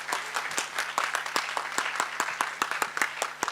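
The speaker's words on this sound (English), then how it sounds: "So a big round of applause for Shobhana." Sustained applause from an audience at a Bharatanatyam arangetram dance performance, steady dense clapping throughout without speech.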